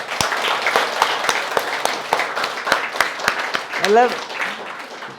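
A group of students clap during a yoga session, sharp irregular claps scattered throughout under continuous talking by an instructor, with a brief rising vocal sound near the end.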